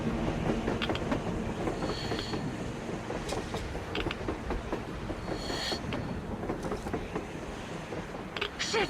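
A train rolls along on the surface in the Metro Exodus video game, a steady rumbling clatter of wheels and cars at moderate distance, continuous throughout with faint scattered clicks.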